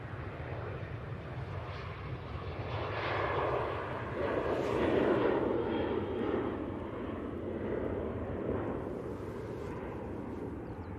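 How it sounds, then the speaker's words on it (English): A TUI Boeing 737-800 departs Manchester Airport for Gran Canaria, its distant jet roar swelling to a broad rumbling peak midway and then fading back without a voice. "we have the TUI. It's off to Gran Canaria at 737-800."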